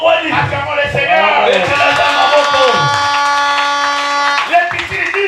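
Congregation in a French-language worship service acclaiming the Lord, a sustained crowd of voices cheering and shouting together with some clapping, loud and close, swelling and holding for several seconds.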